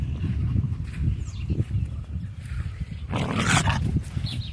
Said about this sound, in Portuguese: cachorro muito bravinho. Não quer deixar para os filhotes